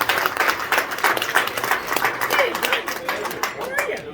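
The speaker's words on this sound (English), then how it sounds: "Can we give him a round of applause?" Applause from the crowd at an election night event for a Wisconsin 52nd District primary, steady clapping throughout with voices and chatter mixed in.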